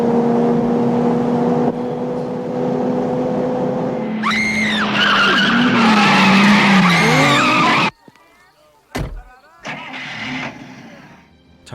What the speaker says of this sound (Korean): 엄청난 속도로 질주하는데